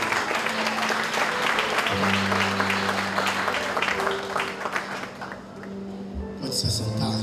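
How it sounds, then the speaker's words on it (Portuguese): A congregation applauds during a church youth service, steady clapping with tones from a keyboard or organ sustaining underneath and a voice speaking briefly near the end. "As palmas agradecem hoje essa noite."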